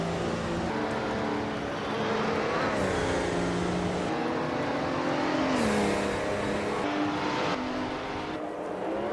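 A 1981 Acela P9 race car's engine in a racing video game, a steady, loud drone whose pitch climbs as it revs and drops at each gear change, with pitch shifts repeating over the stretch.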